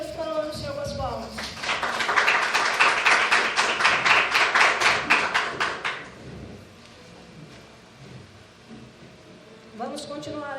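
A church congregation at an inclusive church service claps rhythmically in unison for several seconds after a spoken prayer, the steady beat fading out before a voice resumes.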